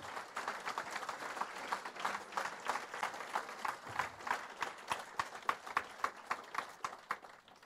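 A church congregation applauds and cheers for Yeshua, steady rhythmic clapping from a room full of people, growing into sharp, evenly spaced unison claps toward the end.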